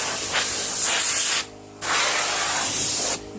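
Two long bursts of hissing air blast from a paint spray gun on full blast, close and loud, separated by a brief silence.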